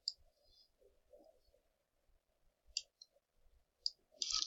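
A computer mouse clicking at a desk while editing content for an LED sign, a handful of small, sharp, close clicks spaced irregularly over quiet room tone.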